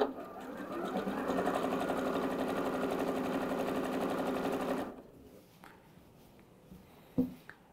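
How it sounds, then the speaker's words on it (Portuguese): A sewing machine stitching satin fabric for a bonnet runs in a steady, fast, even whir for about five seconds, then stops, leaving quiet fabric handling. "máquina de costura para costurar aqui essas duas partes é apenas movimentar os tecidos"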